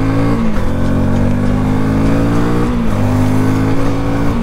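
Engine of a Lexmoto LS-Z 125 motorcycle held in second gear with the clutch dragged, a loud, close, steady droning hum with two slight dips in pitch before it settles back.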